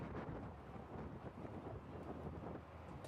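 Soft, steady wind buffets the microphone with low rumbling gusts at an outdoor cricket match, faint and continuous, with no voices.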